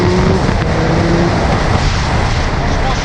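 An 800 cc three-cylinder, 110-horsepower sport-touring motorcycle accelerates hard, its loud, continuous engine roar blended with heavy wind rush, and a voice talks over it.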